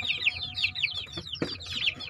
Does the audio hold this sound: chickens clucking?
yes